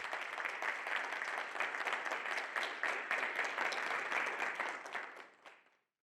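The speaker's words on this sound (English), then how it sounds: "I would like for everyone to give them a round of applause" An audience applauds student panelists at a talk on architecture and disability, a dense, steady clapping from many hands that holds strong for about five seconds before tapering off into silence.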